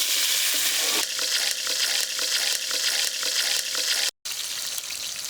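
Onions frying in a pan for fish curry give a loud, steady sizzle broken by regular stirring strokes roughly every half second, with one brief cut to silence near the end.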